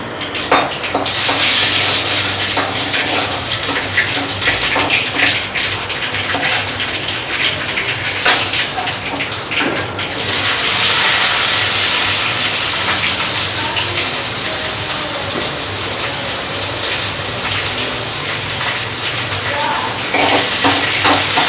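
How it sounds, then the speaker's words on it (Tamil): Curry leaves, dried red chillies and onion frying in hot oil for a pumpkin stir-fry, a steady loud hiss and crackle running throughout with brief bursts, and a voice talking faintly beneath. "இப்போ இந்த மூணு பொருளையும் கருவேப்பிலை வரமிளகா வெங்காயம் மூணு எண்ணெய் நம்ம போட்டுருவோம்"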